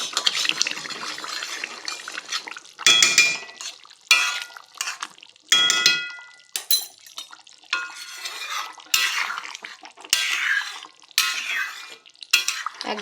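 Ghee being stirred into a thin chicken curry in a pot, heard as repeated close scraping and wet sloshing strokes of a spoon against metal in irregular bursts, with no talking.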